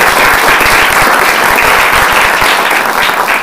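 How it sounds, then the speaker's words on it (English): A lecture-hall audience at a public science talk breaks into sustained applause, a steady dense wash of many hands clapping with no gaps. "I think we should give them a round of applause"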